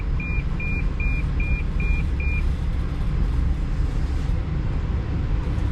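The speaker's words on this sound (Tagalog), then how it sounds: "Tumutunog yung sasakyan kasi sobrang lapit." Car parking sensor in a Hong Kong underground car park beeping six times in a quick, evenly spaced run as the vehicle gets too close, over a steady engine and garage rumble.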